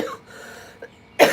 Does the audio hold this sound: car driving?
no